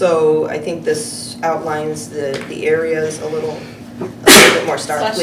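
A single sharp sneeze cuts through a strategic planning meeting, loud and close, coming late after steady talking from one person.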